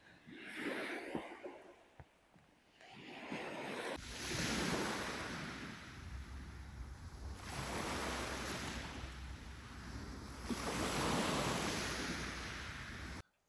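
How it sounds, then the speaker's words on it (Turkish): Ocean waves surge and wash onto the shore at Asprovalta on the Greek coast, swelling and receding in steady rolling cycles with wind noise buffeting the microphone throughout. "Dalga sesi, başka hiçbir şey yok."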